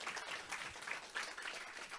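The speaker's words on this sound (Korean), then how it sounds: "여러분 박수" Applause from a youth group at a Sunday church worship service, a steady wash of clapping filling the room for a couple of seconds.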